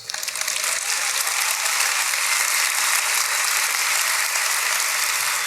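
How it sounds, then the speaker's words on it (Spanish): Sustained applause from a church congregation fills the space, a dense steady clatter of many hands that holds at an even level with no voices over it. "I allow you to clap for Jesus."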